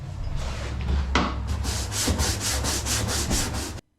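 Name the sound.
power brush scrubbing grease off sailboat interior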